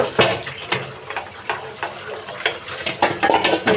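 Boiling lentil dal with spices being stirred and mashed in a pot, giving a steady run of wet scraping and bubbling strokes in a loose rhythm, close and fairly loud.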